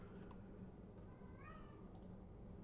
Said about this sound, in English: Sorry about my cat yelling in the background.